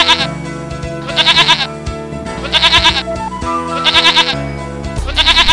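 Cartoon sheep bleat in repeated bursts over a busy animated-story soundtrack, in a children's moral tale of a wolf in sheep's clothing strolling among the flock; the bleats come in about four clusters, fairly loud against music.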